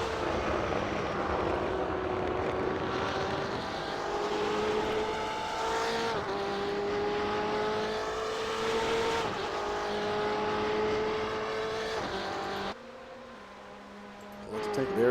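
Race cars roar around the Monza circuit, engines holding a steady loud whine with rising and falling pitch as they chase in the draft toward a chicane, continuous throughout with a brief dip near the end.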